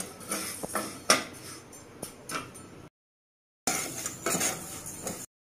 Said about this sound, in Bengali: আমি সোনামুগ ডালটা একটু কাঠখোলায় ভেজে নেব